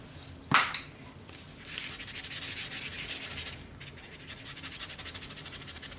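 A brush scrubs dark brown-black paint across canvas in quick repeated rasping strokes, close and fairly quiet, with a brief sharp tap near the start and a short pause midway.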